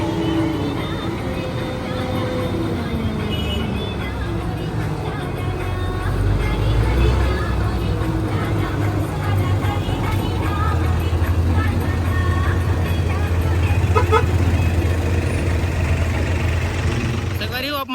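A Kartar 4000 combine harvester driving along a road from soybean fields, its engine a loud, steady diesel drone and rumble throughout, with someone talking over it.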